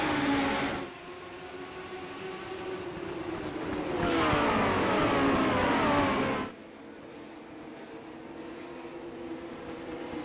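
A field of fourteen race cars in a racing video game roars down the straight at Lime Rock Park at the green flag, engines droning loudly with rising and falling pitch, then dropping off sharply.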